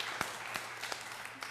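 A church congregation gives a brief round of applause at a service: a few scattered, fairly distant claps spread across a moment, with no one speaking.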